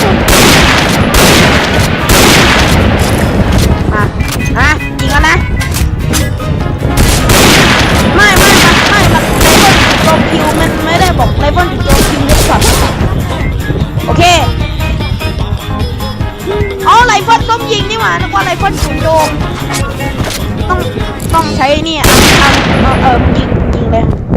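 Assault rifle gunfire during a video game mission, loud dense bursts and single shots crackling almost nonstop with booming impacts, while players shout and talk over the fighting.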